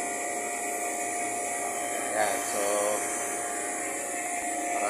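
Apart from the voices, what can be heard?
vacuum pumps evacuating a refrigeration system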